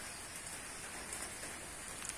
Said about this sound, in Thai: พอฝนตกทั้งวันทั้งคืนแบบนี้